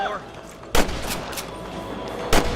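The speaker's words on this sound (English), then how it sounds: "Good shooting, boy!" Loud, close gunshots in the Western video game Red Dead Redemption, two sharp heavy cracks about a second and a half apart with fainter shots between, over background game sound and a low voice.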